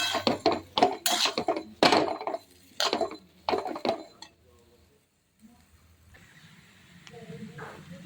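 Potato sabzi with salt is stir-fried in a pan, giving a run of loud, close clattering scrapes and clinks of a utensil against metal during the first half, then a quieter stretch with faint background noise.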